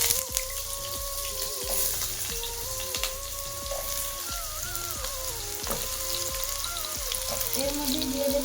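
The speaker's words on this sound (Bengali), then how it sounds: "তেলটা গরম হয়ে গেছে, এবার ডুমো ডুমো কেটে রাখা আলুগুলো তেলের মধ্যে দিয়ে দেবো।" Diced potatoes for a prawn curry drop into hot oil and fry with a steady, close sizzle, dense crackles and pops, and a faint tonal hum running underneath.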